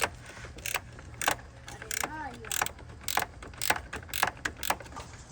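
A small ratchet wrench fitted with a swivel works a bolt loose on a 2025 Ford Explorer ST. Quick bursts of sharp metallic clicks repeat close by against a quiet background, with a brief squeak partway through.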